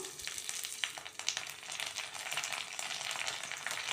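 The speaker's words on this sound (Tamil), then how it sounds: "கடுகு பொரியட்டும்" Mustard seeds splutter in hot oil, giving a dense, steady crackling sizzle that stays loud and close throughout, with scattered sharper pops.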